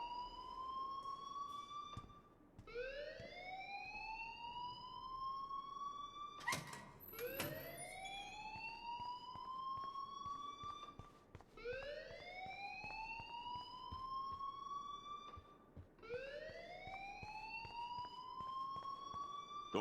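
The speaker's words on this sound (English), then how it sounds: "please turn off that alarm since that's your job" A fire alarm in the Life is Strange video game repeats a rising, swooping siren-like wail roughly every four seconds, steady and loud, with a brief clatter in the middle and no talking.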